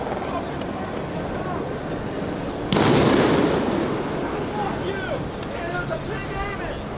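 A single loud bang from gunfire shot from above at a street protest cuts through dense crowd noise and chatter, followed by a lingering roar of voices as people talk nearby.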